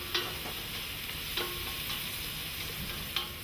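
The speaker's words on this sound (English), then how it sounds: "Stir them around a while, and then add some onion, not too much, and the green pepper." Onion and green pepper sizzle steadily in garlic-flavoured oil for a fish suquet, with a few sharper scrapes of stirring rising above the frying.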